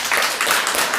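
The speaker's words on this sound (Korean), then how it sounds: "우리 격려의 박수 한번 해드릴까요?" A church congregation at a Korean Sunday service gives a short burst of encouraging applause, a close, busy wash of many hands clapping together.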